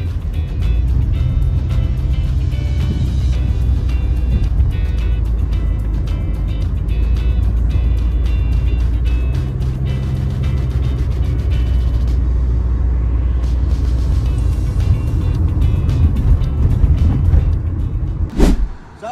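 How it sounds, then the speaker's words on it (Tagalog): A Mitsubishi Lancer MX on a road test near Alitagtag, Batangas, gives a steady, loud in-cabin engine and road rumble that holds for the whole stretch, with a brief sharp clunk near the end. "niro-road test na rin namin yung sasakyan."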